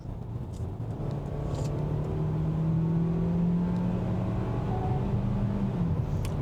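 A 2024 Kia Seltos SX with its 1.6-liter turbo engine accelerating on a highway, a steady rising engine drone with a climbing tone over road rumble and wind, continuous and close from inside the car.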